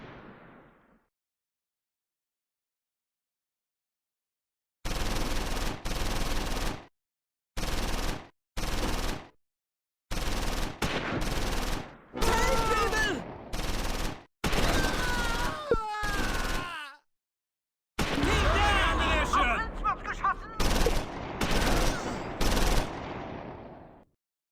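Machine guns rattle in Close Combat 4, a World War II Battle of the Bulge game. Loud bursts of automatic fire start after a silent opening and stop and start in quick clusters, with a few shouted voices mixed in.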